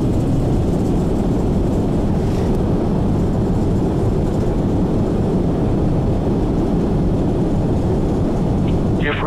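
Airliner on its landing roll in FSX flight simulator, reverse thrust applied after touchdown on a Philippine Airlines flight into Laoag: a loud, steady broadband engine roar with rumble, continuous for the whole stretch.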